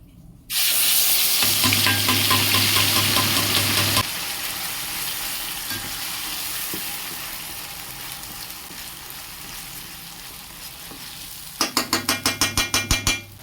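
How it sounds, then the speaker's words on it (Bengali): Garlic-heavy ground spice paste with a little ginger hits hot oil left from frying potatoes for chicken kosha, bursting into a loud, steady sizzle. Stirring scrapes follow, ending in a quick run of rhythmic clatters. "ওই তেলেই দিয়ে দেবো বাটা মশলাটা"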